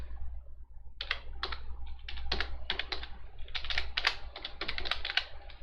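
Fingers type on a computer keyboard while entering Python code, a close, crisp run of rapid key clicks in bursts with brief pauses over a low steady hum.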